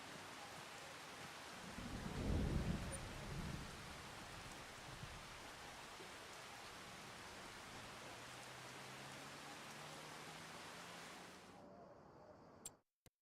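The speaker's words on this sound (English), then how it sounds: "we can't do shit in this rain" Steady rain hisses across the scene in the video game Farming Simulator 25 as a low roll of thunder swells near the start and fades, leaving a long, even downpour that cuts off abruptly at the end.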